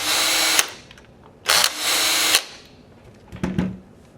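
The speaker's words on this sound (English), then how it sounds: "I'm going to be using my drill with a 1/8 bit." A power drill fitted with a 1/8 bit whirs in three short bursts while backing screws out of an X7 Phenom paintball marker's stock, the first two long and loud, the last brief with a lower grinding tone, no talking.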